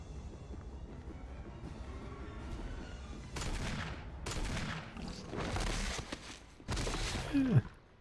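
Gunfire in the video game Resident Evil Remake comes as about five separate sharp bursts spaced over several seconds, each with a brief trailing decay, over a low ambient game drone.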